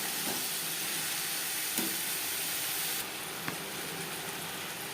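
Sliced potatoes frying in oil in a pan for a pomfret curry, a steady broadband sizzle and hiss throughout with a few faint stirring clinks, no voices.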